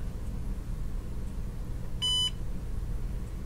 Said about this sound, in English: that beep meant it found it